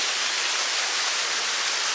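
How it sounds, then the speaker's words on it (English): A small waterfall at a woodland den in Northumberland gives off a steady, close rush of broadband water noise with no break or other sound over it. "I've got my own waterfall."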